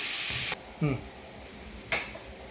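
Chopped onion sautéing in a pan gives a bright sizzling hiss that cuts off abruptly. After a quiet stretch with a faint voice-like murmur, a second short burst of sizzle flares up and fades.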